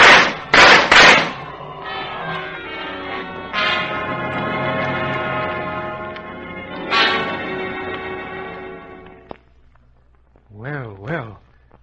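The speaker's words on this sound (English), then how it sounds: "Well, we know Captain Jack is a good shot." Gunshots in a radio drama fire in several sharp bursts at the start, loud and close, followed by a sustained tonal ringing musical swell before fading; no speech over the shots.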